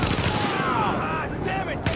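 Gunfire bursts rattle over a dense battle din in the video game The Division, loud and continuous, with voices mixed in.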